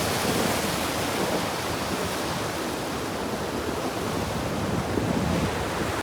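A mountain river in a dense forest rushes with a steady, loud, broadband roar of flowing water, constant throughout and with no speech.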